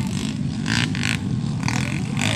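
Enduro race motorcycles, including an XR and a 155, ridden in rain: engines buzz and whine continuously up close, with bursts of higher revving and no clear talk.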